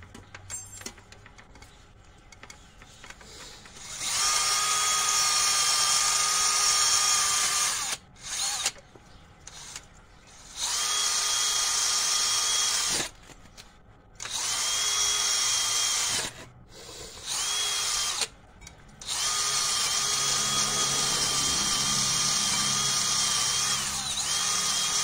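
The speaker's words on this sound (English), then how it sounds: "Give them a nice little polishing." Power tool polishing brake rotors on a 2010 Dodge Avenger during a brake and rotor replacement, heard as loud whining bursts of several seconds each, separated by short pauses when the tool stops.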